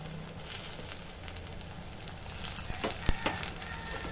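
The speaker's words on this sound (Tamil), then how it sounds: "ரெண்டு தக்காளி போட்டுக்கிறோமா பொடியாக அரிஞ்சு" Chopped tomatoes dropped into garlic and onion frying in a pan, a soft steady sizzle with a few light clatters and stirring sounds near the end.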